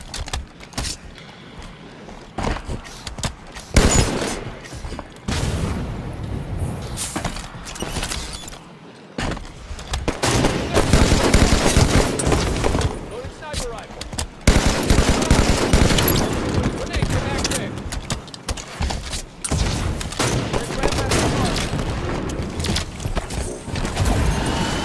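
Sniper rifle shots and bursts of gunfire in a first-person shooter video game, loud and continuous over much of the clip, with rattling mechanical reload clicks and some speech mixed in.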